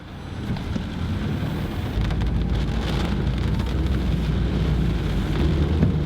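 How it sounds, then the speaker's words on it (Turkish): Heavy rain pours steadily on a hot summer day, a dense continuous hiss with dull patter on surfaces, constant and fairly loud throughout with no voices. "o yağmur bayağı arttı şu an."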